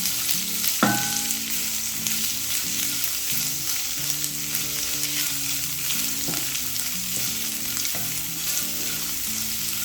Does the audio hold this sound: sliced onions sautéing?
yes